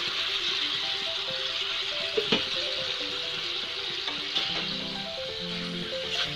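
Fried okra and potatoes going into a simmering pan on a low gas flame, giving a continuous bubbling sizzle with a couple of brief clinks, close and fairly loud.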